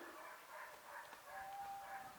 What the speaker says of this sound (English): lot of barking dogs up there, isn't there?